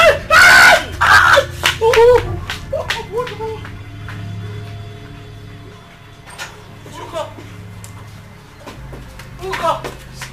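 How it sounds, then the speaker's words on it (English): Loud, shrill screaming bursts out at the start of a Nollywood drama scene, followed by a crowd of voices shouting and talking over a steady background hum. "I heard a voice. A scream."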